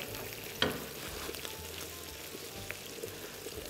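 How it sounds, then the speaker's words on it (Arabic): Onions and garlic sizzle steadily in a pan, a continuous crackling fry close by at moderate volume, with a clink from a utensil near the start and a faint stir later. "بصل وثوم الله غالب ديما مغرومه بيهم انا الحق. هاكم يتقليو."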